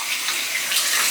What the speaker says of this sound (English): So I'm just gonna wash my hands quickly.